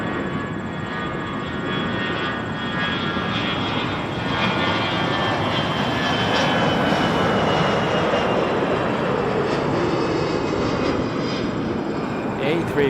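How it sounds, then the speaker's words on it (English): A Lufthansa Airbus A350-900 arriving from Munich roars steadily as it comes in to land on runway 24 left, a broad, loud jet rumble that builds gently across the whole stretch. "A350-900 Lufthansa 494 coming in from Munich"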